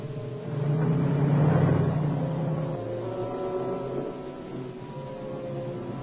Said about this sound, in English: Listen, there's the car coming.